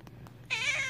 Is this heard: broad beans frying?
no